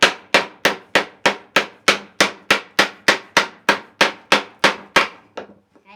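A tomahawk made from a claw hammer chops a board resting on an anvil, giving about fifteen evenly spaced, sharp woody thwacks at a brisk steady pace, close and loud with nothing else heard.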